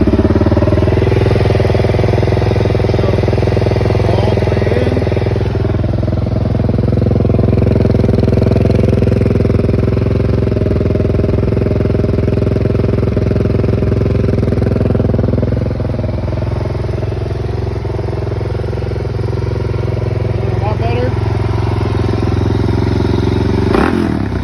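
A 2022 Suzuki DRZ 400 SM with freshly cleaned carbs and a Black Widow exhaust idles steadily and loudly up close. Its deep, throbbing single-cylinder note swells slightly at times and carries on without speech.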